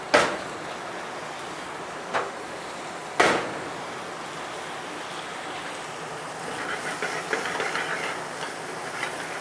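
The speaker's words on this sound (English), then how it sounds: "Throw some fresh garlic in there" Fresh smashed garlic sizzles in a pan over medium heat, a steady hissing broken by a few sharp pops and clatters near the start, then a brighter crackling sizzle building toward the end.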